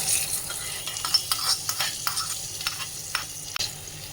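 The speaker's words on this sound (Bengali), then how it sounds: "এখন দিয়ে দেবো এই যে ফোড়নটা" Tempering spices hit hot oil for a vegetable pulao with Kashmiri chillies, giving a soft continuous sizzle while a spoon scrapes and stirs the pan in quick irregular strokes, close by and fairly quiet.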